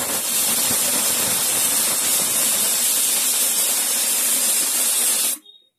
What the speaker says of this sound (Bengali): একটা সিটি পড়লো